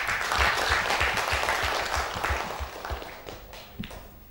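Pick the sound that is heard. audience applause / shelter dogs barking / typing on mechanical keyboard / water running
audience applause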